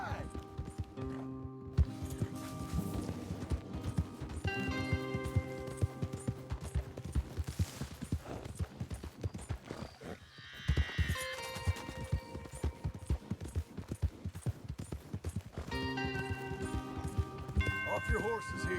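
Rapid clip-clop of horses galloping in Red Dead Redemption 2 under game music and sound effects, with a brief break before the pounding hoofbeats resume.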